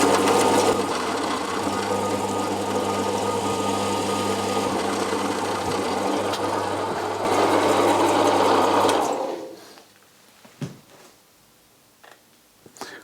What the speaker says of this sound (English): let's continue and drill through.